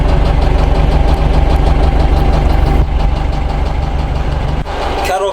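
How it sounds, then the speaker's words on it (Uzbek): A Farmlead 504 tractor engine runs steadily on a test drive, a loud continuous diesel chug with a slight dip partway through. "Traktorimizdan test drive ko'ramiz."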